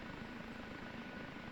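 OH-58D Kiowa Warrior helicopter idling on the ground in the DCS flight simulator, a soft, even rotor and turbine drone with no speech.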